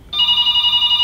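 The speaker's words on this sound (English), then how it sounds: "That is the phone for the hairdryer." A loud, close telephone ring starts abruptly and sustains as a bright electronic trill.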